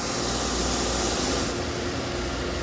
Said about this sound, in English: All the coolant lines work, high pressure through the turret.